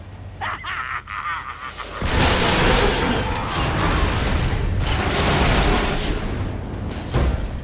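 A loud explosion rips through a laboratory during a break-in in the LEGO Marvel Super Heroes video game, starting with a sudden blast around two seconds in and then a sustained roar of crashing, shattering debris.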